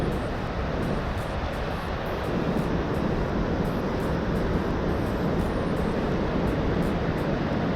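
A waterfall near Golden and Revelstoke roars as a constant, full broadband rush with no breaks, loud and close, with no voices heard.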